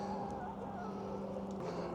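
Hens murmur and cluck softly and steadily in a noisy farmyard, with a constant low hum underneath and no talking.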